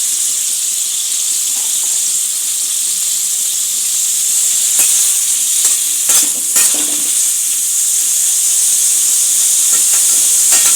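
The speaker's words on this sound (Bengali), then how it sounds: "অল্প একটু নুন দিয়ে সবজিটা ভেজে নেব।" Vegetables frying with a little salt in a pan for Bengali-style veg pulao, a loud continuous hiss with scattered crackles and a few stirring knocks.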